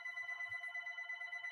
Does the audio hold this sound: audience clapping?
no